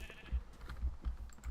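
Sheep in the video game Minecraft bleat repeatedly from a pasture, several short overlapping bleats in quick succession, close and clear with no talking.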